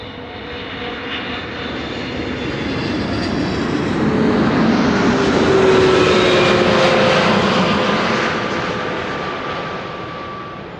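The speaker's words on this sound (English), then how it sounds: "After that, another KLM A330 arrived from Montreal." A KLM Airbus A330 arrives at Amsterdam Schiphol Airport, its jet engine roar building steadily to a loud peak mid-pass and then fading as the airliner passes, with no talk.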